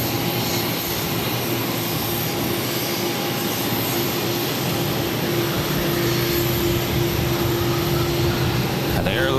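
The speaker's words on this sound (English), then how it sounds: "now taxiing over to the international terminal" Aer Lingus airliner taxiing to the international terminal at Boston Logan, a steady engine roar and whine holding evenly throughout, with a faint voice under it.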